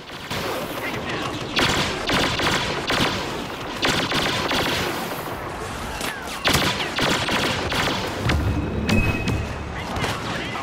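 Video game gunfire crackles in from several directions: dense, overlapping bursts of automatic fire and single shots rattle continuously for several seconds, loud and close, with a few heavier booms mixed in.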